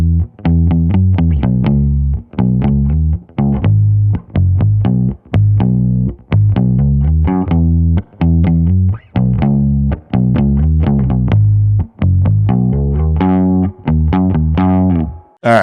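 A dream pop guitar preset called Vintage Vibe in Logic Pro, played with a pick, gives a loud, bouncy sequence of effect-laden plucked notes and chords in short repeating phrases with brief pauses, with no voices.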